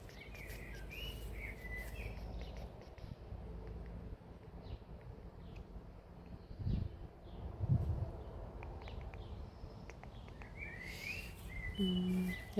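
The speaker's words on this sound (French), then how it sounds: "Il y a des super oiseaux en tout cas." Birds chirp and sing outdoors in short bright calls scattered across a quiet backdrop with faint wind and rustling, a couple of louder low thumps midway and a clearer call burst near the end.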